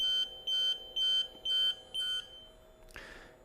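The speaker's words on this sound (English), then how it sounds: "there's our alarm again" A Fanuc robot controller alarm beeps five times in an even rhythm, loud and close, followed by a short hiss of air.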